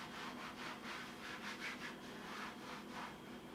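Wood is sanded by hand off grid in the Canadian wilderness, with rhythmic back-and-forth rasping strokes, faint and close, repeating evenly with no talk.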